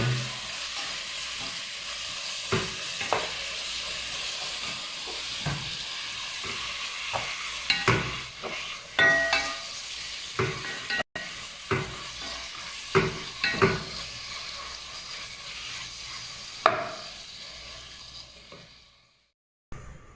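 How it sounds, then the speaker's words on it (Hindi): Chana dal and pumpkin sizzle gently in a pan over low heat, with a soft continuous frying hiss broken by repeated scraping stirs and a few utensil clinks. "हल्की आंच पर थोड़ी देर इसको भून लें"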